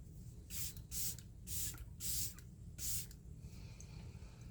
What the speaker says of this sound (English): Let me spray some setting spray.